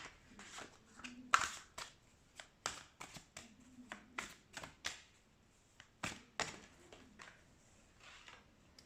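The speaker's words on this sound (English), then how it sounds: "let's shuffle more cards." Tarot cards being shuffled close up, a series of quick crisp riffling and tapping bursts in irregular rhythm, quiet between the flurries.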